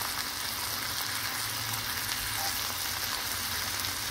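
Sliced button mushrooms sautéing in a pan with potatoes while being stirred, a steady close hiss of frying with soft scraping underneath, continuous and even with no voices.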